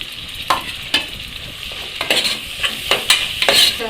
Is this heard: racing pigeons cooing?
no